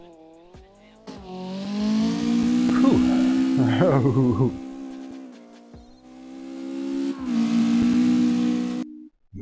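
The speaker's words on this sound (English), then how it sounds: "these car noises are so loud" Car engine revving with tire squeal in CarX Drift Racing, a loud sustained engine drone that rises and falls, with squealing tires through the middle and a man's brief exhale over it.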